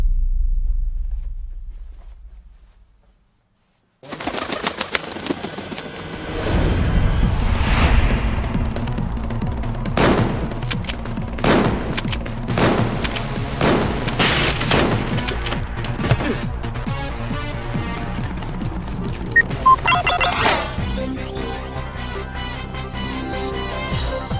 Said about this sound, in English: Guns! Lots of guns!